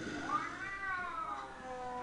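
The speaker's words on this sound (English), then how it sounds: "I got a cat that wants to go out." A domestic cat lets out one drawn-out, rising and falling meow, fairly close and clear against a quiet indoor background.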